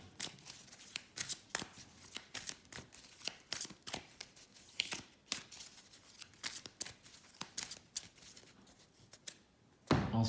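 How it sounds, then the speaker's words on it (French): A deck of Arkham Horror card-game cards is shuffled by hand at close range: bursts of crisp riffles and slaps come in uneven runs with short pauses, ending in a louder shuffle, with no talking. "Donc je vais mélanger mon deck."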